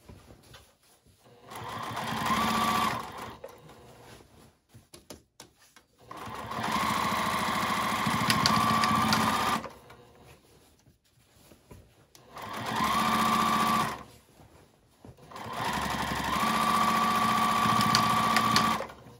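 A sewing machine stitches the side seam of a reusable shopping bag in four sustained runs of rapid whirring, each separated by a quiet pause, heard close with no talking.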